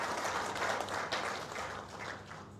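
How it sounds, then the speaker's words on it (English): An audience at a veterinary association gathering claps steadily for the outgoing executive body, a dense, even patter of applause lasting a couple of seconds and gently fading. "give a big clap"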